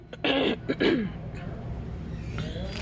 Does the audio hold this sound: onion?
no